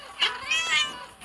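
A cat meows in the Cat Evolution video game, one short, soft, rising call played on its own.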